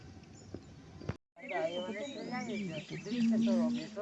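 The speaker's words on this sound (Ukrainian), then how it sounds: "Птахи співають." Birds singing along a forest path in spring, varied chirps and warbling calls fairly close, with a voice and a few faint knocks before the song takes over.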